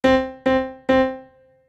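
A piano's middle C, the white key just left of a pair of black keys, struck three times in a row, each note ringing clearly and decaying, the last left to fade out alone.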